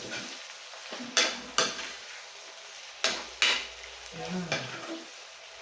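Corned beef sizzles and fries in a pan for a home breakfast, with a steady hiss under sharp scraping spatula strokes and clinks against the pan, close and fairly loud.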